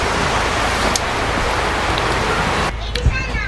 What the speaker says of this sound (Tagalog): Kasi umuulan eh.